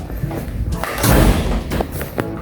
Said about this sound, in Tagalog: Kung sana sumara yung pinto.